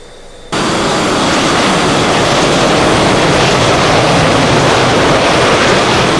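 A jet afterburner roars in a flight combat video game during a hard evasive turn, a dense continuous loud rushing roar that kicks in suddenly after a brief quieter moment and holds steady.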